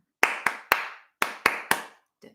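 Six crisp hand claps in a deliberate rhythm for a singing game, grouped in two sets of three with a short pause between, loud and close, followed by a faint murmur at the end.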